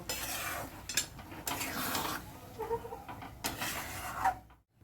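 Mutton keema tarka dal is stirred in a pot, soft scraping and sloshing strokes with a few light clinks of the utensil against the metal, quiet and close, fading to silence at the end.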